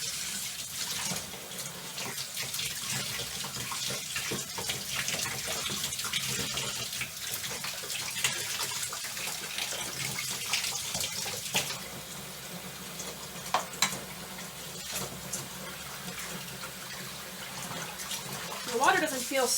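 Flowing stream water runs continuously while sheep wool is washed in it on a sheep farm, a steady moderate burble with occasional splashes and brief handling noises, speech heard intermittently over it.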